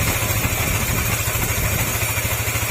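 A Yamaha NMAX 155 scooter engine idles steadily with a fast, even ticking clatter from an engine fault running through it, close and loud, with no talking.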